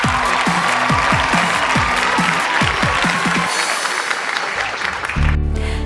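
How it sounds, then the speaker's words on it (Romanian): A studio audience applauds the girls in a loud, dense burst of clapping that holds steady for several seconds before tapering off. "haideți să le aplaudăm pe fete, pe toate fetele"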